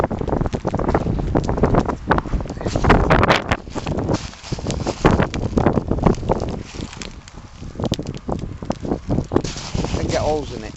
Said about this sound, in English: Changing wind here